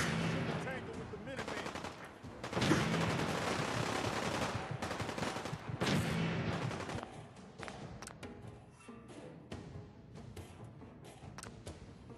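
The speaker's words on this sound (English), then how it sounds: "Why is he shooting at me?" Rapid, overlapping gunfire from the Fallout 4 video game rattles in sustained bursts for several seconds, then breaks into scattered single shots and thuds as it thins out.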